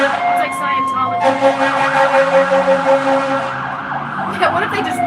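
Emergency vehicle sirens passing on a road in Knoxville, loud wailing tones that sweep up and down close by, with a busy traffic rush and voices underneath.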